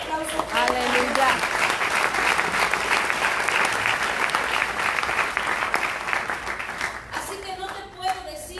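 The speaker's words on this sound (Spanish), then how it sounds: "Dele ese aplauso" A church congregation at Templo Getsemani in Apopka, Florida claps loudly and continuously in worship, dense applause filling the room while voices speak and call out over it, the clapping tapering near the end.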